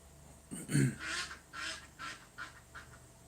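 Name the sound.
agitated duck quacking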